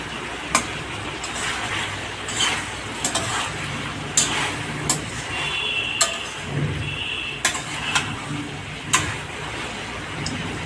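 Potato and drumstick curry sautéing in a pan, with a continuous low sizzle and periodic clinks and scrapes of a spoon stirring against the pan, close by and with no talking over it.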